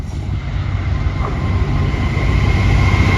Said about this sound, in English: here comes the freight trains going to Peak Forest from Wellingborough